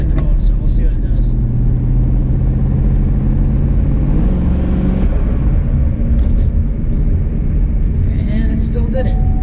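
A turbocharged LS engine in a Cadillac Escalade drones loudly under part throttle, a steady close rumble with a rising tone midway, while a person talks over it.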